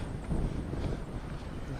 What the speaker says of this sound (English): Okay, still windy.